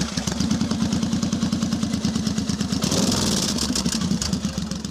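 Several cruiser motorcycles, including a Yamaha M1800R, pull away on a Danish riders' meeting tour, loud close engine burble with rapid pulsing exhaust thumps that smooth into a steady drone as the bikes ride off.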